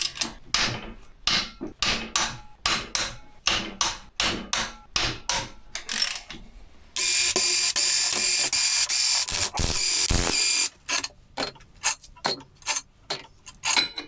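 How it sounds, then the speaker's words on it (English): A ratchet wrench working loose car engine cylinder head screws, sharp rhythmic clicks in bursts close by, then a long steady mechanical whir before the clicking resumes; no speech. "so Christian has to open the cylinder head screws"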